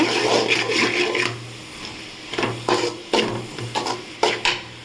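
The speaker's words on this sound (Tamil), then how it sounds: "கால் டீஸ்பூன் மஞ்சள் தூள் கறி மசாலா பொடி காரம் மசாலா பொடி இதெல்லாம் சேர்த்து நல்லா வதக்கிக்கோங்க" Turmeric, curry masala and chilli powders sautéed in a pan for egg Maggi noodles, a close sizzle broken by repeated scraping spatula strokes in an irregular rhythm, with no one talking.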